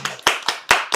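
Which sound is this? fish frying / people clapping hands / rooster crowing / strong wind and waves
people clapping hands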